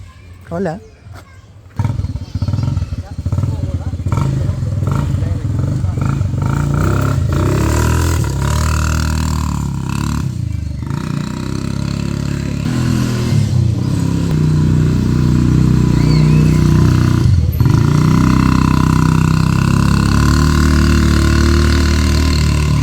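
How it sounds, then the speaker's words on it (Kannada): A motorcycle is ridden along with its engine roaring loudly and steadily. Brief voices and bumps come first, then a sustained, slightly rising engine drone dominates. "ಇಲ್ಲೈತೆ ನೋಡಿ ಈಗ ಬೈಕ್ ಓಡಿಸ್ಕೊಂಡ್ವಿ ನಾವು"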